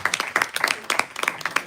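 Sparse clapping from a small audience at a round-table discussion, a handful of separate claps in an uneven patter, fairly close and modest in volume.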